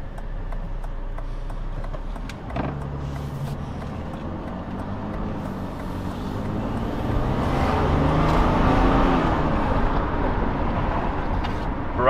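A Mercedes-Benz W210 E300td diesel with an upgraded ECU drives along, its engine droning steadily from inside the cabin with a faint ticking, then swelling louder as it pulls harder partway through.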